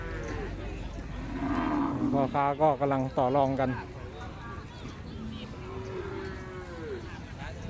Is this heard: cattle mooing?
yes